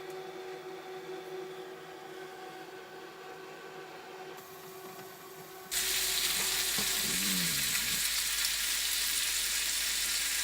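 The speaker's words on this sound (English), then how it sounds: "Bacon and eggs and onion for lunch." Bacon, eggs and onion frying in a pan at a riverside campsite give a soft, steady sizzle that jumps sharply louder partway through and keeps crackling to the end, with no talking.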